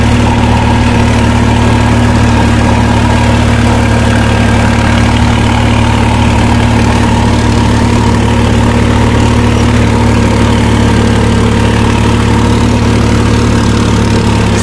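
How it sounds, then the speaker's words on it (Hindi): A Swaraj 960 FE 60 hp tractor pulls an 11-tine cultivator at a full 1600 RPM, its engine a loud, close, steady drone with a deep low hum that holds evenly throughout, with no talk. "पूरा हाई लगाया है, फुल 1600 RPM पे ट्रैक्टर बहुत कम RPM तोड़ रहा है।"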